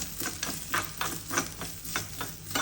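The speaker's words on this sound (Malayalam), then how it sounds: "ഇതൊന്ന് നമുക്ക് വറുത്തെടുക്കാം." Washed rice frying in coconut oil in a pan while being stirred, with a soft sizzle under a steady series of rhythmic scraping strokes, close and fairly quiet, with no talking.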